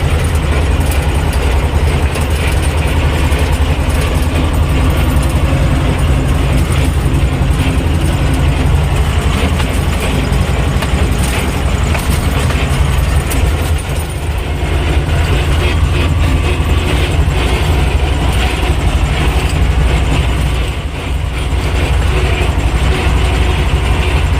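A T-25 tractor engine runs steadily at close range while mowing grass with a Polish segment mower, a continuous loud, low mechanical drone with rattling that holds for the whole stretch, no voices.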